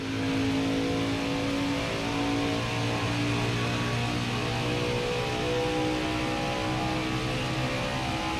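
A stock car engine in NASCAR Heat 5 at Pocono drones loudly and continuously, its revs rising and falling through upshifts and downshifts with no talk over it.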